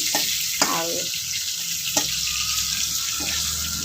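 Vegetables frying in oil for dahi baigan, a continuous close sizzle broken by a few sharp spatters and clinks of a utensil against the pan.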